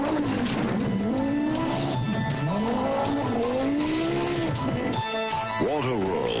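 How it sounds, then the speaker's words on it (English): An Audi quattro race car runs hard up the Pikes Peak hill climb in 1986, its engine note rising and falling through repeated sweeping revs. It is loud and close, with tire noise and a brief drop before it revs again. A voice talks over it. "In 1986, Unser tries the quattro for himself and sets the fastest time ever in the race to the clouds."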